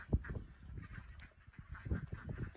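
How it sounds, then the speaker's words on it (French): Ducks out in the snow give soft, faint quacks and honking calls in a short irregular run against quiet outdoor background. "Des canards qui découvrent la neige"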